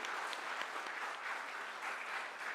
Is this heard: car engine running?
no